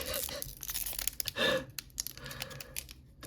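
A trading card booster pack being torn open with crinkly foil ripping and crumpling, one sharp loud tear in the middle amid close, busy rustling.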